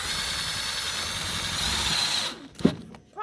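Power drill running steadily as it drives screws through bike tire tread onto a kid's Gator ride-on, a continuous close whine that stops abruptly near the end, followed by a brief clunk and short handling noises.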